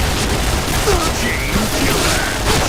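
A grenade detonates in the Point Blank first-person shooter game, a muffled boom buried in dense, continuous gunfire and game noise, with a player's voice talking over the action.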